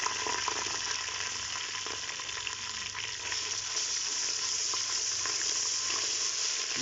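Onions fried golden brown, with ground ginger and garlic just added, sizzle loudly and steadily in a pot as they are stirred, the constant frying hiss broken by small scraping stir noises throughout.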